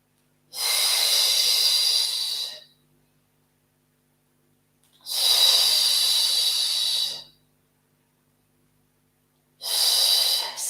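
Forceful rhythmic breaths during a rapid Pilates arm-beating exercise, three loud airy bursts of about two seconds each, separated by silent pauses, close to the microphone.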